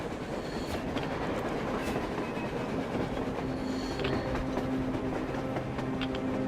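A train rolls along on the surface in the Metro Exodus video game, a steady rumbling clickety-clack of wagons with occasional faint wheel squeals, sustained and fairly close throughout with no speech.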